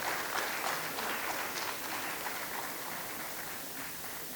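A conference audience applauds a speaker, giving a steady, dense wash of many hands clapping together for several seconds, even in level and moderately distant, with no clear voices over it.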